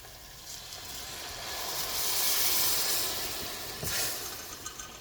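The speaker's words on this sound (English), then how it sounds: "I'm going to add the broth and the beef to the green vegetable mixture." Boiled beef and its hot broth poured into a green vegetable mixture for kreng kreng, a broad hissing splash that swells in the middle and surges again briefly near the end, close and alone.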